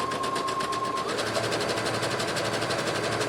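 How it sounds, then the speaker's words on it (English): Sewing machine zigzag stitching to finish a seam edge on a doll dress, running steadily and close with a fast, even mechanical chatter throughout. "I'm going to come back and I'm going to zigzag stitch that"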